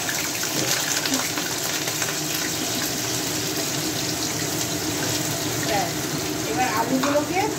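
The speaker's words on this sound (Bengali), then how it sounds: "আলুগুলোকে ভালো করে একটু ভেজে নিয়ে তারপর মশলা দেবো।" Potatoes frying in plenty of hot oil in a pan for a cabbage curry, giving a steady, dense sizzle and crackle that runs unbroken at close range, with no talk over it.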